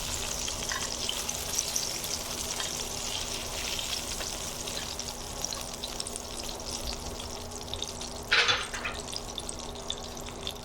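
Tilapia fish frying in hot oil, a steady close sizzling hiss that runs throughout, with a brief louder crackling burst near the end.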